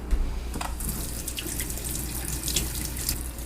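Kitchen tap left running while making focaccia dough, giving a steady, close hiss of flowing water with light splashing throughout and no talking.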